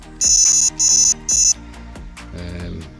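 Three loud, high-pitched electronic beeps from a Sonik SKS2 fishing bite alarm switching on, in a quick even sequence, close and clear, over a low background hum of music.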